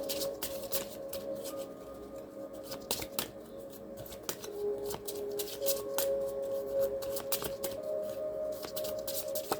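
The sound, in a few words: shuffling small tarot cards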